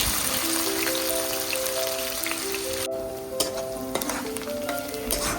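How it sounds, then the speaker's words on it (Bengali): Sliced onion frying in hot oil with a bay leaf, a dried chili and whole cumin, making a loud, steady close-up sizzle and crackle with light stirring scrapes and no voices, for palak chicken. "একটি তেজপাতা একটি শুকনো লঙ্কা আর গোটা জিরে দিয়ে হালকা ভেজে নিয়ে ওর মধ্যে দিয়ে দেব কেটে রাখা পেঁয়াজ"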